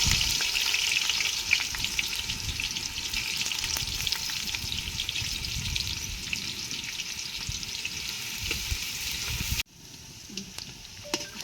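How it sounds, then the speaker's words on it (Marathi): Onion frying in oil on a wood-fired clay village stove, a steady dense sizzle with occasional stirring scrapes, close and continuous, then dropping abruptly to a quieter crackle near the end. "कांदा आपला चांगला भाजत आले"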